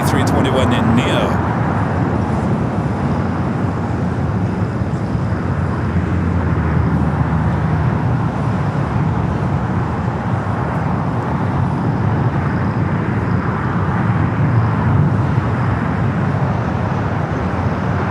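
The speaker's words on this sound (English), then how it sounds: "Flight coming in from Denver. Carry the Fisher livery in that A321 Neo." An Airbus A321neo landing at LAX on arrival from Denver: a loud, unbroken broadband jet roar that stays steady for the full length, with a brief crackle at the start.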